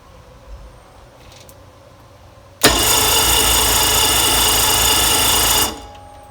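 The Mercury Sport Jet engine of a Sea-Doo Speedster boat, which has just had a gas line fix, is being cranked. After a quiet start, a loud, steady whirring drone runs for about three seconds and then stops abruptly.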